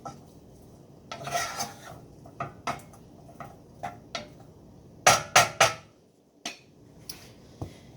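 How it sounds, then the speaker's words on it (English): Butter noodles with salt being stirred in a pot: a run of scraping, clinking utensil strokes against the metal, irregular and close, with a cluster of sharper knocks partway through and no talking. "stir all the noodles together to evenly disperse the salt on the noodles"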